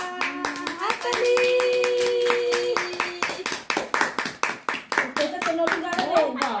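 Hand clapping breaks out at a child's fourth birthday celebration, a quick run of sharp, evenly spaced claps lasting a few seconds, following voices and sung notes.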